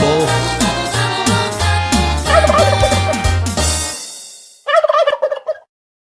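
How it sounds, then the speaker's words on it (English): Upbeat music with a thumping bass line plays loudly, then stops, and a short, loud, rattling turkey gobble follows alone near the end. "Gobble, gobble, the turkey goes"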